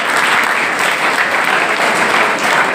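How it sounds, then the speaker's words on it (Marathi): Students at a school farewell function for SSC and HSC pupils in Khanapur clap together in a steady, dense burst of applause that fills the room without letting up, with no voices standing out. "त्या सर्व विद्यार्थ्यांना एकदा यांच्यासाठी पुन्हा टाळ्या वाजवा"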